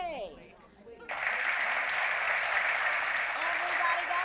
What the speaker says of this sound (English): So you all get applause.